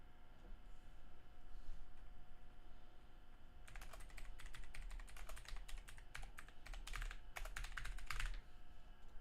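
Typing on a computer keyboard, close to the mic: after a few seconds of quiet room tone, a fast burst of sharp key clacks runs for several seconds with brief pauses, alone without talk.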